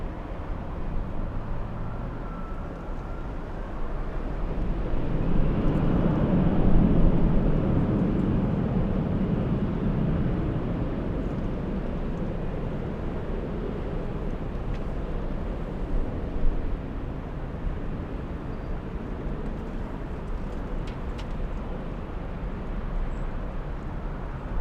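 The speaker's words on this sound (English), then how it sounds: "Little E175 flying to Sacramento, California." A SkyWest Embraer E175 airliner at LAX airport gives a steady broadband jet roar that swells to a peak and then settles into a sustained rumble, heard from a distance without talk.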